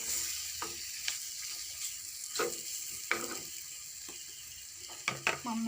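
Tomatoes, ginger and garlic frying in a pan, with a low, steady sizzle and several sharp clinks and scrapes of a utensil stirring against the metal.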